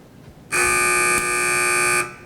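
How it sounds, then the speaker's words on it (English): A quiz competition answer buzzer lets out one loud, steady electronic tone lasting about a second and a half, standing alone after a quiet room. "Teams, wait for the buzzer if you'd like to answer."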